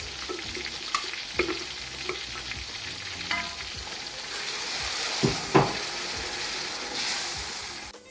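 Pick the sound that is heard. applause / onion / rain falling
onion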